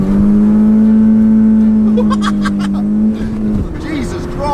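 A car building revs against launch control for a first gear launch on a cold day: a loud, steady held engine drone that breaks off abruptly near the end, with voices talking over it.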